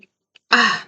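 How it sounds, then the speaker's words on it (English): A single short sneeze or throat-clearing burst, close and fairly loud, preceded by two tiny faint clicks in otherwise silent surroundings. "Gotta sneeze."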